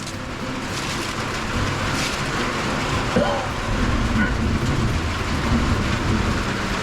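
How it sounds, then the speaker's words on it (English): Heavy thunderstorm rain falls steadily outdoors beside a smoker grill while lawn sprinklers also run, a dense continuous hiss with a low rumble underneath. "Getting a good thunderstorm right now."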